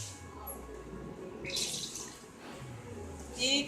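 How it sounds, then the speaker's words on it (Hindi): Water is poured into a gram flour (besan) batter for pakoras in a home kitchen, giving faint, brief splashing and trickling that swells in short bursts against quiet background noise. "अभी और थोड़ा सा पानी डालें।"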